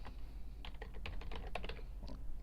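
A computer keyboard is typed on in a quick, uneven burst of close clicking keystrokes at moderate volume, followed by a lone final key press, with no talk.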